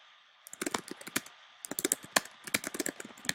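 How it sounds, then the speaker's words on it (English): Rapid typing on a computer keyboard, with bursts of crisp key clicks close to the microphone, a brief pause in the middle, and a faint steady hum underneath. "To add contacts, you can come here and you can start typing them in."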